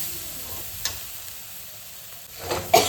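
A spoon scrapes and stirs spice masala roasting in a pan, with soft sizzling and a few sharp clinks and scrapes, faint and close, ending in louder stirring strokes; no one speaks.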